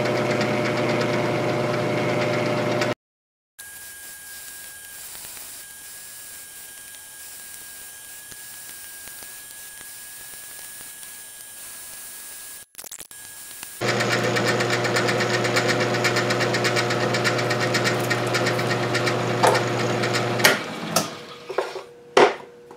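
A machine takes a squaring cut off a small piece of metal stock for a sine bar. Its steady motor hum runs on, drops to a quieter whine, then returns louder as sharp knocks close out the clip.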